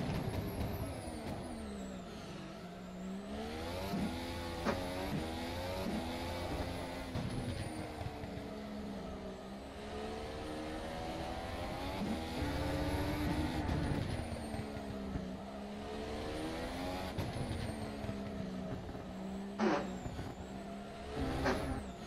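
F1 development car in rFactor 2 racing sim, engine rising and falling through repeated revs and downshifts, moderately loud and continuous with no talk.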